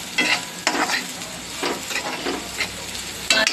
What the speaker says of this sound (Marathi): आता व्यवस्थित खालीवर करून घेऊयात